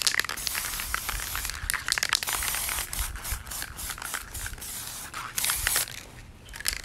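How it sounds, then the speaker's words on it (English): Spray paint hissing from an aerosol can onto a sweatshirt in loud, close bursts separated by short pauses, with faint crinkling handling noise and no speech. "Just spray."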